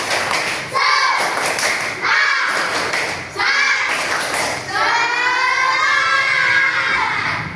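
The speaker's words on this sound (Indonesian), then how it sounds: "Tepuk semangat." A class of children performs a rhythmic spirit clap, several bursts of sharp patterned clapping, then a chanted group shout, loud and close.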